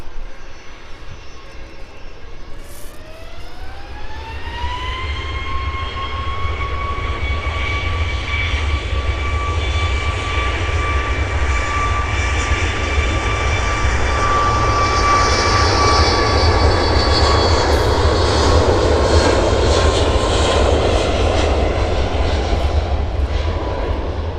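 A Ryanair jet airliner throttles up on the runway, its engine whine rising in pitch and then holding as a loud, steady roar builds and stays strong, heard from outside at an airport with no voices.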